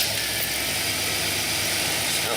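Engine of a GMC Safari Astro AWD van idles steadily after a tune-up with new spark plugs, wires, distributor cap and rotor, a continuous even hum with a low rumble, close and unbroken.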